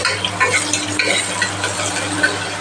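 Cinnamon, fennel seeds and curry leaves frying in hot oil in a pan, a loud close sizzle under repeated scraping and clinking of a stirring spoon at an uneven rhythm, no talk.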